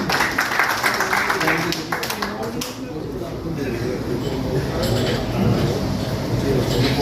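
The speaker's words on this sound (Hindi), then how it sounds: "जोरदार तालियों से स्वागत करेंगे।" A crowd at a gathering of village heads applauds to welcome their block president, with thick, continuous clapping that runs unbroken for about seven seconds. Voices are mixed in with the applause.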